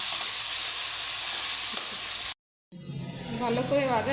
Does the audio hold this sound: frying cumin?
yes